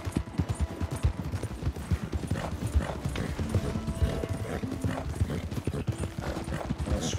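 Horse hooves clip-clop steadily at a riding pace in Red Dead Redemption 2, close and fairly loud, with a brief whinny and distant game sounds in the background.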